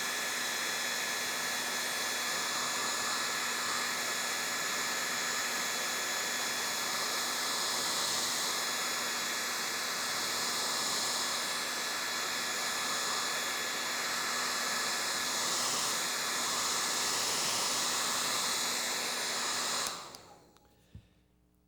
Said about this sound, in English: Let's take the hairdryer here.